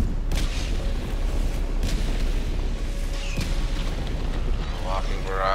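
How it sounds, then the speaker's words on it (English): Orbital strike explosions in Helldivers 2, a dense wash of heavy rumbling booms and bursts rolling on continuously over a busy battlefield, with a few sharper blasts standing out. "Calling in orbital strike!"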